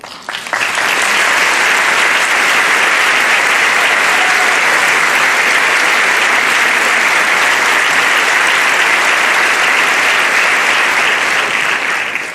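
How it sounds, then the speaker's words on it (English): A concert audience gives the founding members of a Minneapolis chorus a long, loud ovation that starts suddenly and stays dense and even the whole time. "you're going to give some applause with me, please"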